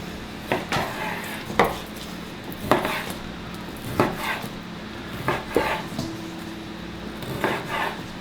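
A knife cuts through chunks of whole pork shoulder, giving a series of irregular, close thuds and taps on a board, about a dozen over several seconds, fairly quiet with no talk.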